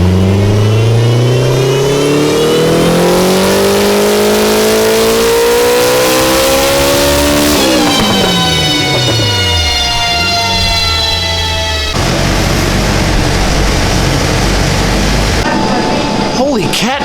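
Turbocharged K20 engine in an MR2 on a dyno, revving hard through a rising pull toward a 9300 rpm limit, loud and close, then dropping off and building again with a roaring, buzzing tone.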